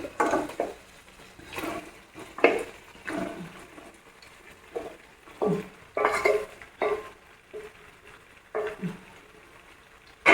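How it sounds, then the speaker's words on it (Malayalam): Potatoes tossed with coriander leaves in a pan, spatula scraping and knocking in repeated bursts with a soft sizzle underneath, close and moderately loud, no voices. "കിഴങ്ങ് കൂടി ഇട്ടതിന് ശേഷം നമുക്കിതൊക്കെ കൂടി ഒന്ന് യോജിപ്പിക്കാം"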